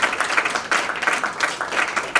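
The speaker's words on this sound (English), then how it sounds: "so give it a round of applause for both of them" Applause from attendees at a student government senate meeting, a smaller group clapping with an audible, uneven rhythm of individual hand claps, moderately close.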